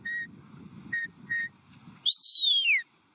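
A shepherd's whistle signals commands to a sheepdog, with several short clear toots followed by one long rising-then-falling blast, each standing alone over faint low background noise.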